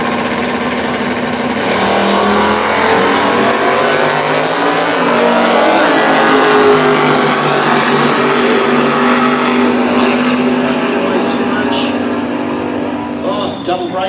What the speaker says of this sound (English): on the boards for Tony White, and he's very, very well presented Commodore. It's only giving away around 7/10 of a second, so this will be fairly quick on the tree